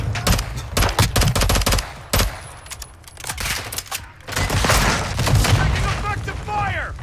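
Call of Duty: Warzone 2.0 gunfire: loud, rapid bursts of automatic fire and heavy booms come close together. Near the end a voice talks over the shooting.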